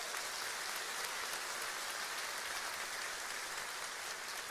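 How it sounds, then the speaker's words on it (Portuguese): Congregation applauding in a church service, a dense, even wash of clapping that continues for the whole stretch, heard from a distance without any voices. "você pode aplaudir"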